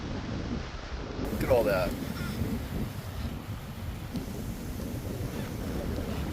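Wind gusts through a North Dakota pine forest damaged by bark beetles, a steady, loud, low buffeting that runs the whole time, with a brief spoken remark near the start.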